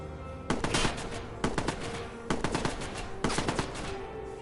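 Video game gunfire rattles out in short automatic bursts, four quick volleys of sharp cracks separated by brief pauses, loud and close against a low ambient hum.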